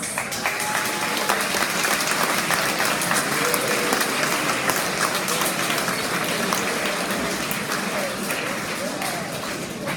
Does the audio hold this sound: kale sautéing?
no